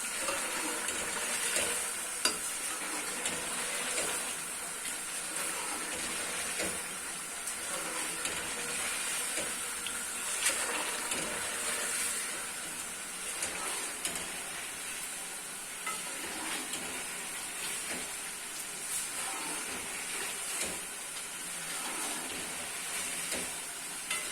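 Onions and potatoes frying in a pan, a continuous bright sizzle and hiss with occasional faint stirring clicks, steady and close, with no talking.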